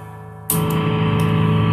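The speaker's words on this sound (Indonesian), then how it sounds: "kita coba teman-teman seperti apa kegaharan distorsi ini" A heavily distorted electric guitar chord through a kit-built distortion pedal kicks in abruptly after a quiet hum, then sustains loud and gritty with a few fresh strums.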